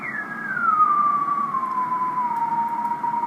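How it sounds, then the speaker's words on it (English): A steady electronic phase shift keying radio tone on the 24 MHz shortwave band glides slowly downward and settles into a sustained pitch over a faint noisy hiss, with no voices. "There's some phase shift keying."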